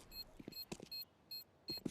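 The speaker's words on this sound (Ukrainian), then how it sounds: "Так, ну бомба пікає." Periodic bomb beeping from a Counter-Strike round during a NAVI versus Dynamo show match, short bright electronic beeps repeating several times against faint in-game background noise.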